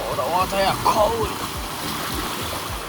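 River rapids in Jamaica churn steadily through the clip, with a brief stretch of speech at the start over the flow.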